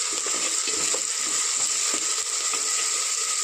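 Onions, ginger and garlic fry steadily in hot oil for an okra dish, a loud, continuous sizzle with soft scraping stirs breaking through now and then.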